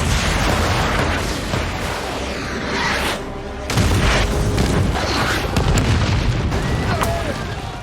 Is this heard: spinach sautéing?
no